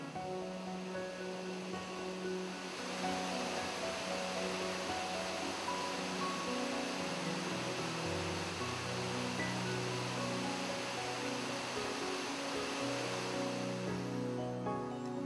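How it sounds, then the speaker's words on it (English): Splashing cascades spill down through garden pools at a waterfall garden in Costa Rica, a steady dense roar of falling water without pause, close and even in level. "climb to the next level and a set of splashing cascades"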